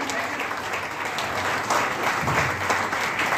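Loud applause from a seminar audience at a team-building event in Prayagraj, a steady roar of many hands that swells slightly in the second half, with faint voices beneath.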